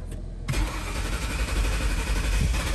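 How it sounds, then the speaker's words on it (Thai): An American pickup truck engine cranks briefly and catches, then settles into a steady, loud rumbling idle close by. "สมมติเราสตาร์ทรถนะเราสตาร์ทรถแบบนี"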